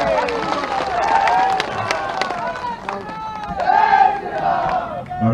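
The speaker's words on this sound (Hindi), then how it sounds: "जोरदार ताली बजाकर।" A large crowd at a political rally in Ramkanda, Jharkhand roars with sustained cheering and shouting that swells and fades over several seconds, dense and loud throughout.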